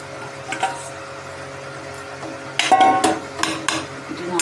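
Fried potato and cauliflower pieces go into a pot of cooking khichdi with dal, giving a few close, sharp clatters and scrapes of pan and utensil against a quiet background.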